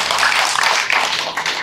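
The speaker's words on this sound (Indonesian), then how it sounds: "Tepuk tangan." A crowd applauds at a Hindu community gathering at Pura Bhuwana Santi temple in Bandar Lampung, with a brief, dense burst of clapping that fades at the end.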